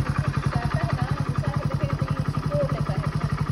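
A motorcycle engine running just after starting, with a steady rapid chugging thump close by, even in level and alone with no talk over it.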